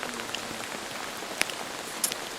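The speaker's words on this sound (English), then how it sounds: "I wish we could send this rain to where they really need it." Heavy rain pours down outdoors at an Alaska off-grid camp as a steady, dense hiss of patter, with a few sharper drops striking close by.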